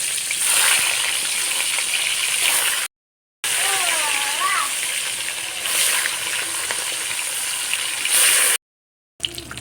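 Fish rubbed with salt and turmeric fries in hot mustard oil in a kadai, a steady close sizzle running under faint background sounds, with two short breaks of silence.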